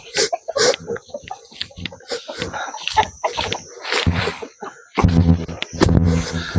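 Spur-bred fighting chickens cluck and squawk in irregular bursts around a farmyard, with roosters calling among scattered clatter and movement.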